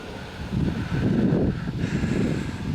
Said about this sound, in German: Da war der Wind stärker als ich.